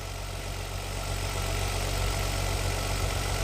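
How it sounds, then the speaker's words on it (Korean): A 2009 Hyundai Genesis BH 380 sedan with 180,000 km idles just after starting, a steady low rumble held close and even for a few seconds with no one talking. "시동 걸었습니다."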